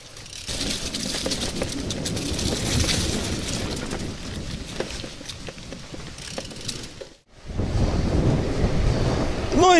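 Strong headwind buffeting the microphone while cycling a long country road, a steady roaring rumble with gusty swells, a brief drop near the end, then loud blustering again.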